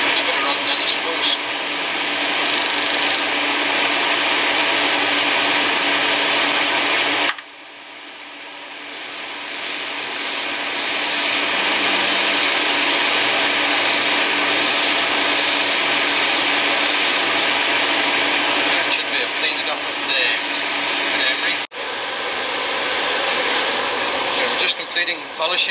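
Polishing machine buffing a small copper dish held on a wooden board, a loud steady whirring drone that briefly drops off and spins back up, with a short knock near the end and no clear talking.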